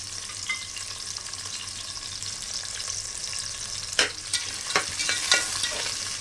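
Two or three dried red chillies and onion sizzle steadily in hot oil for Kongu-style biryani, with a constant close hiss and a few sharper clicks and scrapes of stirring near the end.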